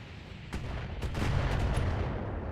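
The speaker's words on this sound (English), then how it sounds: "Just fire the LRMs" Missile volleys fired in the BattleTech video game, a burst of whooshing launches and rumbling impacts with sharp transient cracks over a steady low roar, growing louder and denser midway.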